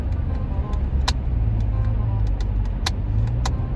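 A car drives through heavy traffic in Riyadh, Saudi Arabia, during a festive occasion, its engine and road noise forming a steady close rumble with a few sharp clicks and rattles inside the cabin; no speech.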